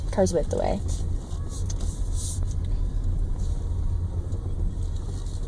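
A car idling and creeping forward to pull alongside for parallel parking, a steady low engine hum inside the cabin with brief mechanical clicks, under occasional talk from the people in the car.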